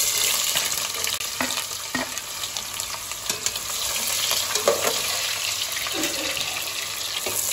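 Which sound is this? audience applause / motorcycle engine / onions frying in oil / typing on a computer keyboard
onions frying in oil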